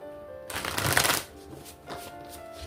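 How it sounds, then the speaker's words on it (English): A deck of tarot cards is riffled and shuffled in a quick, crisp burst, then settles into quieter handling sounds. "One more shuffle"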